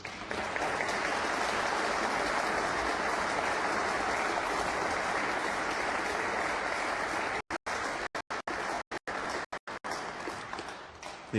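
Sustained applause from a snooker match audience at the Northern Ireland Open, steady and dense for several seconds before breaking into short gaps and stray claps near the end.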